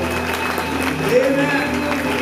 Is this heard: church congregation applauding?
yes